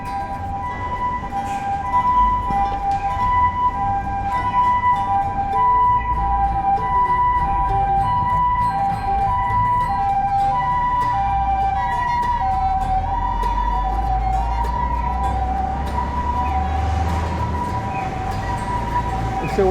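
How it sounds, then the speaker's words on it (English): An ambulance siren passes along a road in Iwakuni, Japan, its steady two-tone wail repeating throughout over street noise and a continuous low rumble, heard from a moderate distance. "So an ambulance coming on the road."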